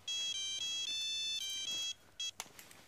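An electronic telephone ringtone trills loudly in repeated close bursts, then stops abruptly, leaving a faint click and quiet room noise.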